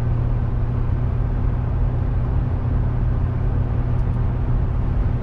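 Toyota 4Runner engine pulling a trailer, a steady loud low drone with constant road rumble and no clear break where the gear shifts up.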